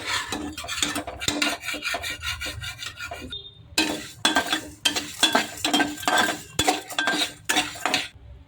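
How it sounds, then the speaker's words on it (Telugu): Sesame seeds roasting in a pan with urad dal for a dondakaya gravy curry, a ladle scraping and stirring in quick rhythmic strokes, close and loud, with one short pause. "అదిగోండి ఒక గరిటె నువ్వులు పోస్తున్నాను"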